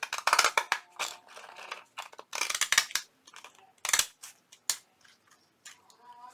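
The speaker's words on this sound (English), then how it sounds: "I'm just going to cut this straight across." Fiskars scissors cut straight across a sheet of paper for a junk journal, giving a quick series of crisp snips and slicing rasps in short clusters with brief gaps, close and clear with no talk.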